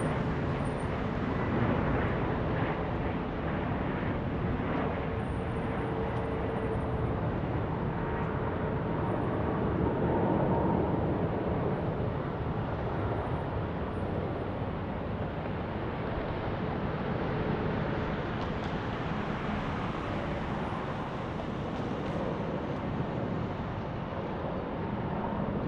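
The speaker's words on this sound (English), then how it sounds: "Here goes American A321." American Airlines A321 airliner at Denver International Airport, a continuous broad jet roar heard from a distance outdoors, steady throughout with slight swelling and fading, with light wind noise and no speech.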